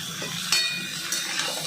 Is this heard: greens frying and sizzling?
yes